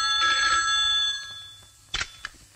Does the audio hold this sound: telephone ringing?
yes